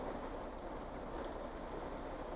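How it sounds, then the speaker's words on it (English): Steady, dense rainfall hisses continuously with a low rumble underneath, a constant wash of sound with no talking. "Maybe I'll wait for the rain to die down a little bit"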